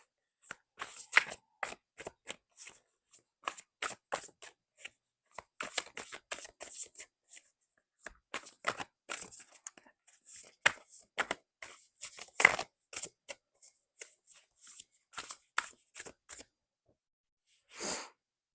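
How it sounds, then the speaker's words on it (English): Oracle cards are shuffled by hand in quick irregular bursts of riffling and slapping, close by, with short pauses between and a soft thump near the end. "I'm going to pull an oracle card for you."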